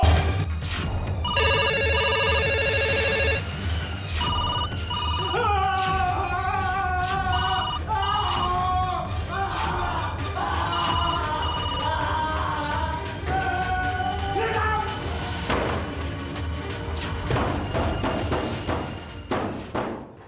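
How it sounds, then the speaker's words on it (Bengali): A telephone rings in a bright electronic burst early on, then music and dramatic sounds carry on loudly for the rest. "কখন থেকে ফোন বাজছে?"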